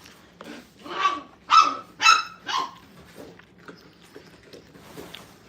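Several sharp barks and yips from playing puppies at a training kennel in a quick burst, fairly close, then fading into faint whimpers and quiet rustling.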